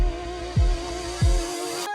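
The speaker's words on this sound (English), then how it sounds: "I took a small chop of the upcoming solo. So when I combine that with some reverse cymbals" Swelling reverse cymbal washes that build and cut off sharply, layered over a sustained chopped melodic sample with low thumps underneath.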